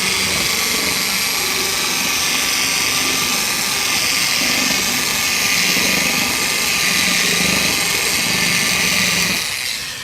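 A car paint polishing machine runs at low speed on a body panel during paint correction, a steady loud whirring drone that holds for the whole stretch and eases off near the end.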